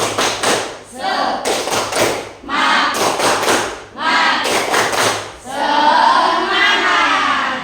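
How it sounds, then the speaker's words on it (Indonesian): A class performing tepuk semangat, a rhythmic spirit clap, during an ice-breaking activity: loud, patterned bursts of group clapping in short phrases separated by brief pauses, ending in a longer sustained flurry with voices mixed in. "Oke, tepuk semangat."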